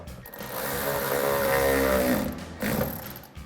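Fender flare bolt tightened by power tool on a 2009-2018 RAM 1500, a steady mechanical whirring and ratcheting buzz lasting a few seconds, close and fairly loud, with a brief pause before a final burst.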